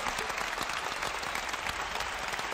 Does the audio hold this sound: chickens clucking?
no